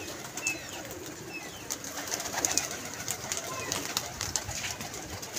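Pigeons coo faintly through steady outdoor background noise while people talk nearby.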